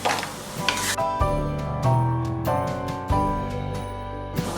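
Breakfast ingredients for a skillet meal are scooped into a container, with close, repeated clinks and scrapes of a utensil against cookware in an irregular rhythm, with no talking.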